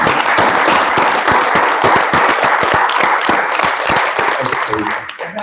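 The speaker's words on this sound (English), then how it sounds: "Can we just give a round of applause for Ryan Johnson?" Loud, close applause and cheering sweep through the audience at a live Star Wars podcast taping at a convention, with individual claps distinct in the wash before it begins to fade near the end.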